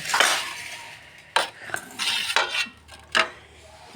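Metal spoons and serving utensils clink against pots and dishes of freshly made dal dhokli, a few sharp scraping and tapping strikes spaced irregularly, close and clear with no talk.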